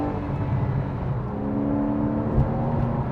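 A Porsche 911 Carrera 4S of the 991.1 generation cruising along countryside roads, its engine a steady low drone with road noise heard from inside the cabin.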